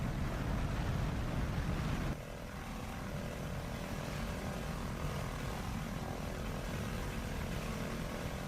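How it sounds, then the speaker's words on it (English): A twin-engine propeller aircraft drones steadily overhead, a loud, continuous engine roar that eases slightly after a couple of seconds and then holds even throughout. "That's a twin-engine aircraft."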